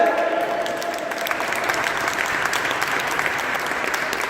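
A church congregation claps together in sustained, even applause that fills the whole stretch from start to finish.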